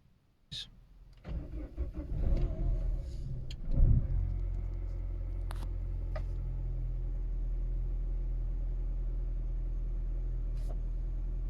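A Peugeot 308 with a 1.6 VVT engine and a P0010 camshaft timing fault cranks and catches after a few seconds of starter whirring. It then settles into a steady, close, low idle running on alone.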